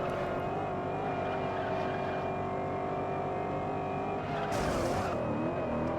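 A car in the racing game Juiced grinds along a wall, its steady engine drone joined by a harsh scraping burst midway, loud and close with no talk.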